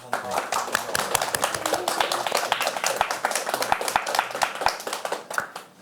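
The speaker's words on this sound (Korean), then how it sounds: "더 멋진 뮤지션이 되기를 박수 치면서 응원하겠습니다" A small group claps in support of musicians auditioning for a singer's band, sharp distinct hand claps in a quick uneven rhythm, close and fairly sparse, sounding like only a few people rather than a large crowd.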